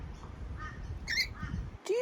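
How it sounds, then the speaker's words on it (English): Rainbow lorikeet calling with brief squawks and chirps, a sharp rising screech near the end, heard close over low background noise. "You're the psychedelic rainbow lorikeet bird from Australia"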